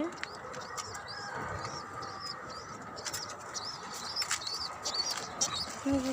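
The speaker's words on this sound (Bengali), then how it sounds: "এদিকে কবুতর আছে।" Pigeons on a rooftop garden coo softly amid scattered bird chirps and a brief flutter of wings, over a steady outdoor background.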